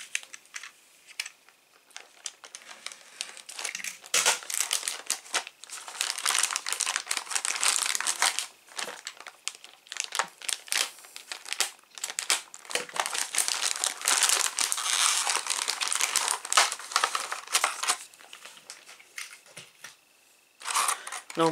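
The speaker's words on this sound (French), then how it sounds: "Je vais les déballer en même temps que vous." Plastic packaging being torn open and unwrapped around Star Wars X-Wing model kit parts, including a clear plastic window piece: loud, close, continuous crinkling and crumpling with sharp rustles for about twenty seconds and no talk.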